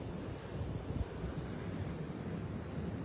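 Steady wind buffeting the microphone at a high, exposed spot, a continuous low rumbling roar with no voices.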